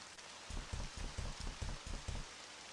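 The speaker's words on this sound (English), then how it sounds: "Light rain pattered against the glass, the gentle noise punctuated by rumbles of coarse thunder." Rain pattering against a window glass during a summer storm in a game: a quick, regular series of soft taps, faint and close, over a quiet hiss.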